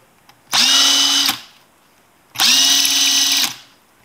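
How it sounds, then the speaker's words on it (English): A power drill spinning a brass trimmer to trim .223 brass whines at high speed in two bursts of about a second each, separated by a short pause. "if you run your drill on high speed"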